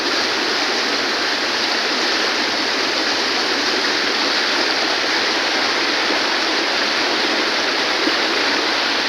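A mountain river in Khaned Valley rushes over big stones, a loud, constant broadband roar of flowing water with no breaks and no voices.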